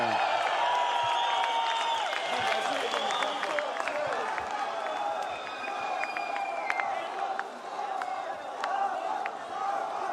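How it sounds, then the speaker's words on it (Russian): Crowd applause and cheering ring out at a BMW car handover to champion Samat 'Kyrgyz' Abdurakhmanov, with steady clapping throughout and voices and shouts mixed in. "Аплодисменты!"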